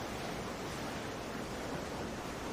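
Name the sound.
ocean waves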